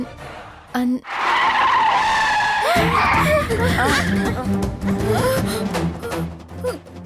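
A car skids during reckless driving, a loud sustained tire screech that wavers in pitch for a couple of seconds, followed by a sliding, rumbling aftermath with a voice crying out over it, close and dramatic.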